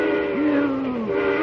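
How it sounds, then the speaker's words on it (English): A train whistle shrieks in a single sustained blast of nearly a second, rising sharply then holding steady, over a constant hissing hum, staged as a radio drama sound effect. "the eerie shriek of the train whistle suddenly blasts into his ears"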